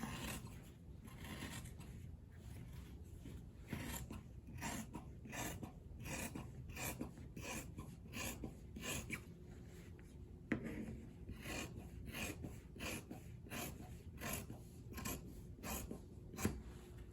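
Scissors cut through fabric for a bonnet, a steady run of soft rhythmic snips and rasping shears, close and quiet throughout with no talk.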